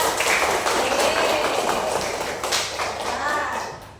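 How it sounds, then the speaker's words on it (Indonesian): A classroom of grade-four students clapping for a classmate, a dense and lively patter of many small hands that stays close and full before tapering slightly, with children's voices mixed in. "Beri tepuk tangan untuk Iksan."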